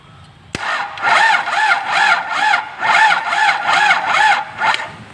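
An Isuzu TFR engine with a low battery is turned over by its starter motor, a loud, steady rhythmic churning of about ten even cranking pulses that begins with a sharp click.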